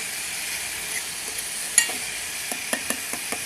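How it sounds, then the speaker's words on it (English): Food toasting in a pot with tomatoes for a noodle and potato dish, a steady soft sizzle with a few sharp scraping clicks of stirring toward the end. "keep on toasting, yeah, so that it won't burn on the pot"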